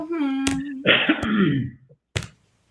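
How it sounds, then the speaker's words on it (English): A single throaty cough or throat-clear after a brief voiced sound, followed by a short sharp click. "And a cough."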